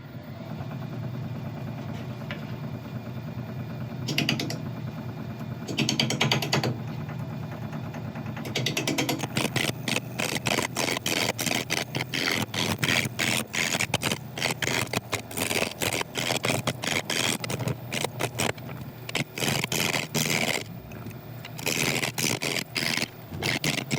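A woodturning lathe spins a mushroom cloud burl, the gouge cutting into a node with steady broadband scraping and repeated rhythmic chatter, loud and close, after a few seconds of quieter motor hum with brief bursts.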